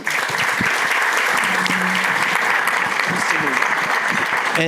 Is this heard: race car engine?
no